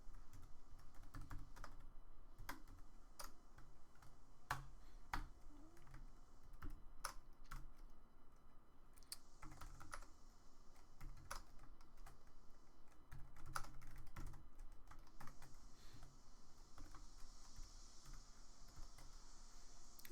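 Continuous typing on a computer keyboard, with quick irregular bursts of key clicks and occasional louder strokes close by, with no talk.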